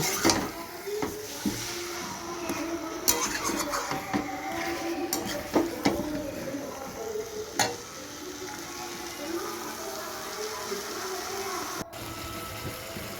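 Potatoes being stirred in a pot for homemade chicken biryani, with a steady sizzle of frying under repeated scraping and clinks of a spoon against the pot, fairly close and continuous.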